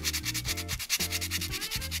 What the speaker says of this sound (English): let's give it a little bit of sanding